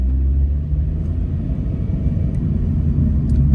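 Car driving along the Wellington motorway in New Zealand, a loud steady low road rumble and engine drone heard from inside, continuous with no talk.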